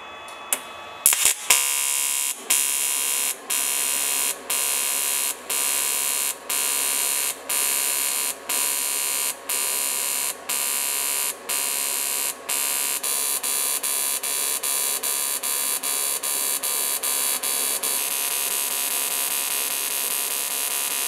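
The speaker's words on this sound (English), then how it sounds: "Had a bit of a play around with the mixed TIG." A Jasic AC/DC TIG welder runs in mixed TIG mode at 1 Hz, making a loud, steady electric buzz broken by regular brief dips about once per second, with no voices.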